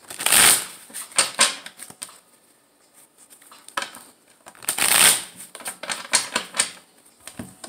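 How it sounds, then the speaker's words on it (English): Tarot cards are shuffled up close in two loud riffling bursts, with crisp flicks, taps and soft shuffling between them. "one more shuffle"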